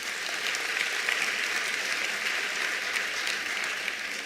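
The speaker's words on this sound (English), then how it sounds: "Let's give them a big hand of applause." A large audience applauds at a ministerial announcement of national school exam results, an even, sustained wash of clapping from a hall, moderately distant and steady throughout.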